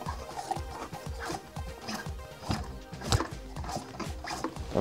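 A Peugeot ST Rapido moped engine is turned over by hand, giving a fast series of low, rhythmic compression thumps and chuffs, fairly faint and close, with light mechanical rattles.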